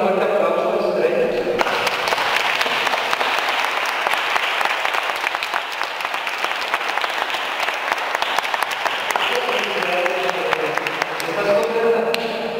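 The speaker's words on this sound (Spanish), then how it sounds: "Vamos a dar un fuerte aplauso a las estrellas." An audience at a festive celebration in Ocampo, Tamaulipas breaks into loud, sustained applause that swells after a brief voice and carries on for about ten seconds before tapering off.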